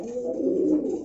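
A Kaldom Chuithal fancy pigeon coos once up close, a single low rounded warble rising and falling, clear and alone.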